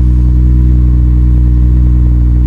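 A vintage 1989 Acura Legend idles while backing up, a loud, close, steady engine drone with a low hum and light mechanical clatter, running without pause.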